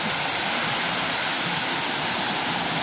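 A river rushes in a steady, dense wash of flowing water, loud and close, with no pauses and no voices.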